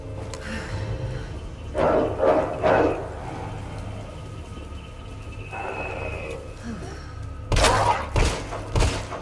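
Dogs bark in Resident Evil 2, a few loud clustered bursts near the start and a sharper pair near the end, over a low ambient game rumble.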